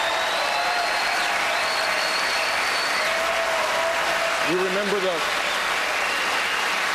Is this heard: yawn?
no